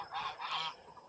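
Several young geese honk close by in quick, overlapping nasal calls, a short burst of noisy farmyard honking with no voices.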